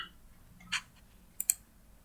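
Clicks of a computer mouse while typing on an on-screen keyboard: three faint, sharp clicks, one alone and then two close together, over a quiet background.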